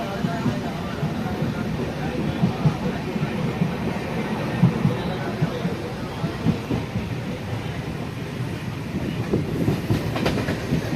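A train at Olavakkode railway station in Kerala, a steady low rumble with clattering wheels throughout, busy platform ambience and faint voices mixed in, and a sharper metallic burst near the end.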